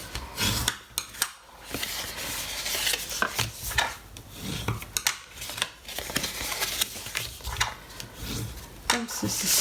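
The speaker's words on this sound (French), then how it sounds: "Une fois que nous avons réalisé nos plis, nous allons venir donc marquer nos plis." Folds are scored on a paper greeting card with repeated scraping, rubbing strokes of uneven rhythm, close and fairly quiet, with short pauses between passes.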